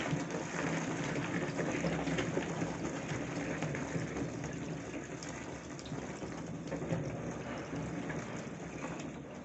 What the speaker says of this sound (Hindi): थोड़ा पानी और डाल लेते हैं।